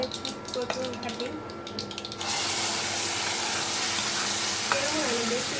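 Taro stems hit hot tempering oil with a sudden loud sizzle that stays steady and close, after a stretch of quieter kitchen clatter and a voice talking.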